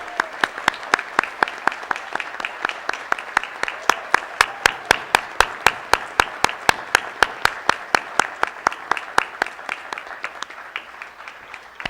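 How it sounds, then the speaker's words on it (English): A long burst of steady, rhythmic clapping from an audience at a high school board of education meeting, sharp claps repeating briskly and evenly for several seconds with no talking. "Can everybody please join me and do a round of applause for these well-deserving."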